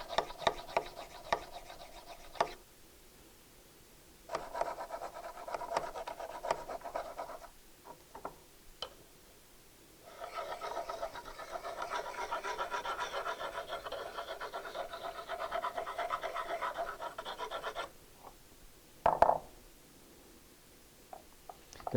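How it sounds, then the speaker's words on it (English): A skew chisel for wood turning is honed by hand in rhythmic rubbing, rasping strokes, close and quiet. The strokes come in several sustained runs separated by pauses, with a brief knock near the end. "I also sharpen the bottom, hone the bottom and the top of the skew also."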